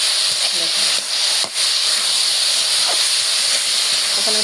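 Vegetable bhaji fries in a pan with a loud, steady sizzling hiss that carries on continuously, close and unbroken.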